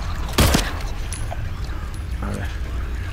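A single sharp gunshot rings out in the Silent Hill 2 Remake, a short loud burst standing above a steady low game ambience, with speech-like sounds and faint tones following.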